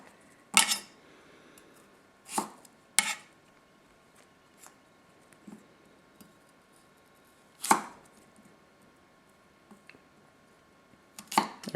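A Tanaka Ironwood 160mm nakiri knife slices through a carrot on a cutting board, giving sharp, separate chops spaced a second or more apart. The strokes are close and crisp, with quiet handling sounds between them.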